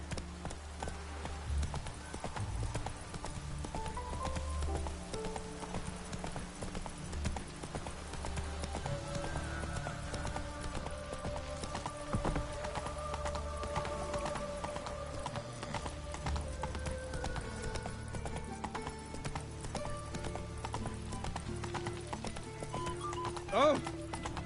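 In The Witcher 3, the horse Roach gallops with a steady rapid hoofbeat clip-clop that continues throughout, under game music and someone talking over the gameplay.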